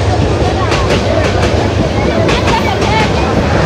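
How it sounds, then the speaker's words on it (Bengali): A train rumbles past close by at a rural poultry and duck market in Bangladesh, a steady loud rolling roar with rhythmic clacking bursts throughout, while a voice talks over it. "এই হচ্ছে ট্রেন।"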